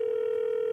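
A steady telephone dial tone hums while a call is placed, a single continuous pitch, clear and moderately loud, with no talk.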